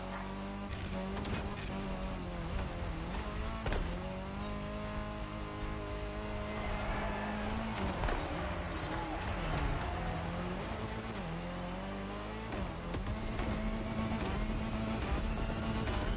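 A rally car engine in The Crew Motorfest racing game drones and revs continuously, rising and falling with gear changes and occasional tire noise, loud and close throughout.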